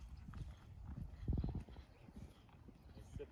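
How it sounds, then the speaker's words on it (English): A horse canters in a riding lesson, its hoofbeats thudding in a quick irregular rhythm, fairly faint and distant, with an instructor's voice talking over part of it. "keep cantering right."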